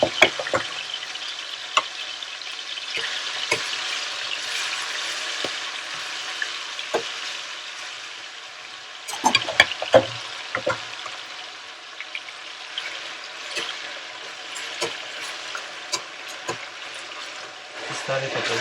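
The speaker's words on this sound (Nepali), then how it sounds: "प्यान एकदम तातो भएपछि तेल तातेपछि मासु हाल्दिनुहोस्" Marinated goat meat for Nepali khasi ko taas sizzles steadily in very hot oil in a pan, a continuous frying hiss broken by scattered knocks and scrapes as the meat is stirred.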